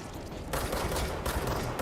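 Rapid gunfire in the PC video game Control comes as dense, crackling volleys in two close bursts, loud and continuous with no talking.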